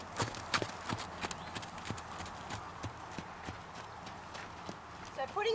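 A horse being lunged clip-clops steadily, its hooves striking in an even repeated rhythm at moderate distance, while a person talks over the footfalls and a brief whinny-like sound rises near the end.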